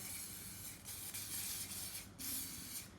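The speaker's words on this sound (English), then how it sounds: "So I'm just going to give it a spray." Close, hissing bursts of cake release aerosol spray onto a non-stick muffin pan, several short pulses in quick succession with brief pauses between them, quiet and alone.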